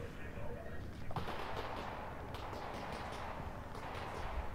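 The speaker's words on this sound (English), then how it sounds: "Somebody's shooting at something." Gunfire in the VR game Half-Life: Alyx, with a dense spread of distant-sounding shots and bursts, like automatic weapons, running under steady game ambience throughout.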